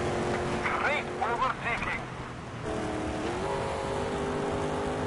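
A race car accelerates in the video game TOCA Race Driver 3, its engine note climbing in pitch and then settling into a steady drone, heard faintly under someone talking.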